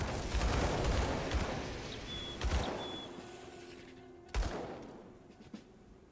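Gunfire with added effects in the action RPG Grim Dawn, a few sharp blasts spaced seconds apart over a dense rumbling wash of combat noise, fading quieter toward the end.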